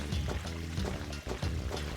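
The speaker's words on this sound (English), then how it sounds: "Sound of water." Flowing water beside a save point in the video game Grandia 2 HD. Steady pouring and splashing with gentle tonal layers beneath, continuous throughout.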